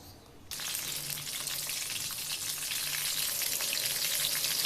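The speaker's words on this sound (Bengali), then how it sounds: "একটুখানি ভেজে নেব মাছগুলো" Small Padma hilsa fish go into hot mustard oil in a wok, and a loud sizzle bursts in abruptly after a quiet half-second. It then holds steady and close, with light crackling and no speech.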